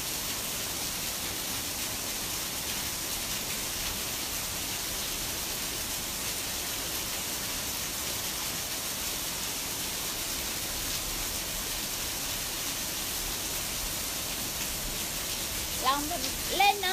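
Steady rain falls outdoors in a continuous hiss that holds even and unbroken throughout, with brief faint sounds near the end.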